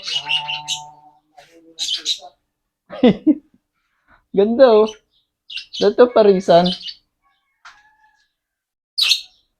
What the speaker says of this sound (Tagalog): Ano bang ibon to?